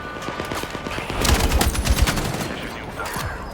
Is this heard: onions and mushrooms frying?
no